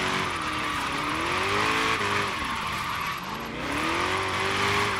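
Hot Wheels car drifting in a drift zone in Forza Horizon 3, with a loud continuous tire squeal wavering in pitch over a steady engine drone throughout.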